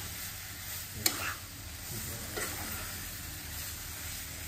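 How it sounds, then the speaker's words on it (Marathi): A sweet modak filling of jaggery and coconut is stirred and sautéed in a pan, with a faint continuous sizzle and a couple of soft spoon scrapes, fairly quiet throughout. "चांगलं विरघळून दिसतोपर्यंत सारण परतून घ्यायचं."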